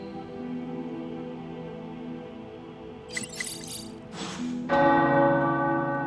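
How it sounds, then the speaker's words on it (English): Bells ring out from a cathedral tower in a video game, clanging brightly over a steady sustained background tone, growing louder and fuller toward the end. "The tower bells are ringing."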